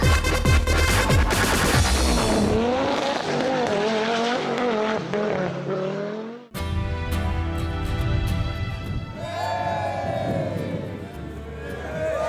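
Rally cars race along a wet tarmac stage at the West Cork Rally, engines roaring loud and close with shifting revs, a brief cut midway, then another car blasting past with tire noise and faint crowd sounds.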